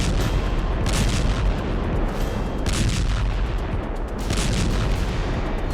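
Bombardment in Khan Younis, Gaza: a dense, continuous roar of heavy booms and rumbling blasts with repeated bursts of crackling gunfire-like impacts, loud and sustained with no voices.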